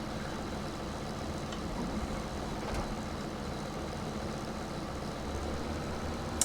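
A New Holland T6 tractor engine in Farming Simulator 17 runs with a steady, low rumbling drone that holds at an even loudness throughout, with no talking.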